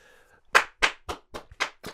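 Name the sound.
hand clapping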